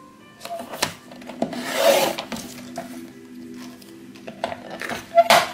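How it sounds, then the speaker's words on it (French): A craft blade scores and cuts through scrapbooking cover board in close rasping strokes, with a couple of louder scraping bursts and faint handling noises between them. "est-ce que ça va bien couper? Oui, ça va. Ma lame est encore pas trop abîmée."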